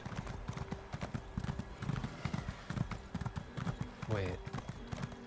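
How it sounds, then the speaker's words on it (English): Rapid hoofbeats of a galloping horse in Elder Scrolls Online, steady and close, with a brief whinny near the end. "And if I run out of stamina, I'm just going to"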